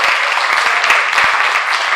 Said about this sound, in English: if y'all could give Miss Myra a round of applause for me